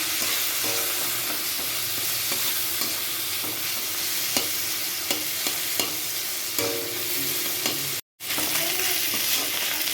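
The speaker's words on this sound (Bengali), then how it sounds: "এরকম মাথাটা দিয়ে দিলাম এর মধ্যে, এবার এটা ভাজা হবে।" A salted fish head fries in hot oil in a pan, giving a loud, continuous sizzle with scattered crackles and occasional stirring scrapes, broken by a brief drop-out near the end.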